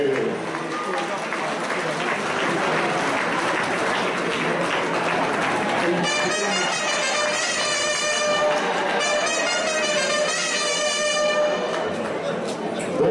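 Crowd applause for a Miss Aquitaine-accompanied kick-off at a US Bergerac versus St Yrieix rugby match, a steady broad clapping wash throughout with a voice over the stadium speakers and lively cheering rising in the second half.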